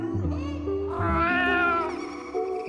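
A cat lets out a long, drawn-out meow that rises and falls, loud and close, with some other low sounds beneath it.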